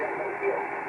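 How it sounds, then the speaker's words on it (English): Steady radio receiver tone with a sine wave variable frequency oscillator, a continuous hum-like sound filling the short moment with little change in level. "on the variable frequency oscillator, quickly change to the sine wave, and we'll hear the difference"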